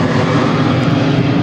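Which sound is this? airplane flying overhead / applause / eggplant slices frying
airplane flying overhead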